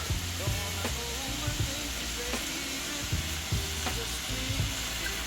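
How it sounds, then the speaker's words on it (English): Coconut milk stirred into fish cooking Jamaican style in a pan, a loud continuous sizzle and bubbling with repeated low scraping stirs spaced every second or so, close up. "Add our coconut milk, guys. We're going to give it a stir."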